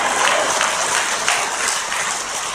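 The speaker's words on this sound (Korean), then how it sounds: "우리 하느님께 미리 감사하는 마음으로 우리 박수로 화답드립시다" Dense, loud applause from a church congregation at a large charismatic prayer gathering, steady clapping filling the whole space without a break.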